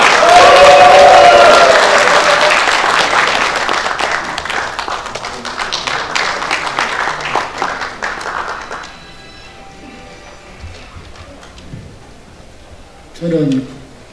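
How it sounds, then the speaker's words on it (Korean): Loud applause and cheering from a crowd at a Korean rally of regional council members calling for decentralization, strongest at first and then fading into scattered claps, with a voice breaking through near the end. "여러분 큰 박수와 함성으로 맞이해 주시면 감사하겠습니다."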